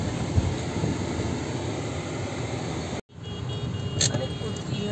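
Busy road traffic on a city street in the Rajouri Garden area of Delhi, a dense continuous rumble of passing vehicles broken by a brief dropout, with a sharp high-pitched burst near the end.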